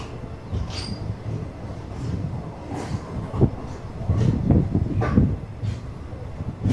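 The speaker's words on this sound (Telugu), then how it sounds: "ఇదిగోండి మనం వచ్చిన ట్రైన్ తలగొప్ప ఇంటర్సిటీ ఎక్స్ప్రెస్" The Talaguppa Intercity Express pulls into Talaguppa railway station, where construction is underway. A low, uneven rumble of wheels and carriages rises and swells toward the middle, with faint knocks and clanks layered over it.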